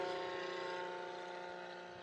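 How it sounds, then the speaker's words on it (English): A STOL airplane engine spools up for takeoff during Rocky Mountain short-takeoff practice on a grass strip, a steady propeller drone with strong harmonic tones, fairly loud and continuous, easing slightly over two seconds. "Fire breathing airplane."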